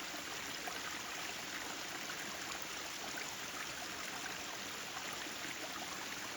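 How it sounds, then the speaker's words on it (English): Waterfall swollen by rain in Maine, a steady broadband rush of falling water that holds even and continuous throughout, with no voices. "there's one good thing about the rain. You get waterfalls. This one's pretty nice."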